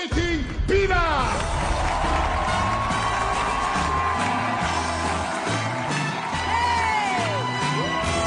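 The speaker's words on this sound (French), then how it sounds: "J'aimerais, pour les accueillir, un tonnerre d'applaudissements." A circus audience cheers, whoops and applauds loudly for the Skating Pillars act, a sustained roar of crowd voices with shouts rising over a continuous wash of clapping.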